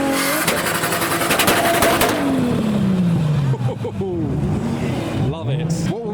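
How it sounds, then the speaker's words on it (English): A Datsun with an RB25 engine revs hard as it leaves a car meet, a loud close roar sweeping down in pitch as it pulls away, with people talking over it. "Now the next Datsun to leave has an RB25"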